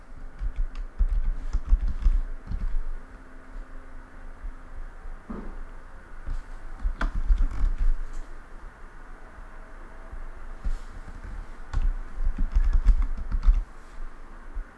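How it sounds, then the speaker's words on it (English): Keystrokes on a computer keyboard as a city name is typed, irregular bursts of clicking close by with short pauses between, no talking. "So I'm just going to type in the city here."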